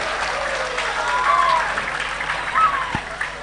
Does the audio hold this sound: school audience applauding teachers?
yes